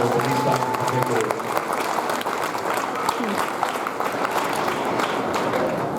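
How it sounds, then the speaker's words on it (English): Loud, steady crowd applause fills an arena at a livestock show, clapping for senior showmen, with faint voices and cheers mixed into the dense clatter throughout. "Let's get a big round of applause for all our senior showmen, but these five in particular."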